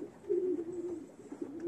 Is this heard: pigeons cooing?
yes